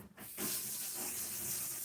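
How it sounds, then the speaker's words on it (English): Water runs from a tap while hands are washed, a steady hissing splash that starts abruptly after a brief moment and continues evenly, close and moderately soft. "Wash my hands."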